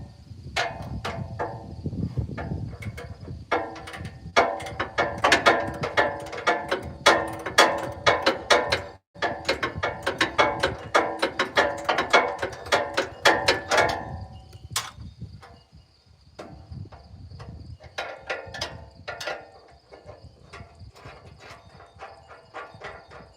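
A socket wrench ratchets during repairs on a truck damaged in a wreck, giving rapid, dense clicking in steady bursts up close for most of the stretch, then thinning to sparse clicks near the end.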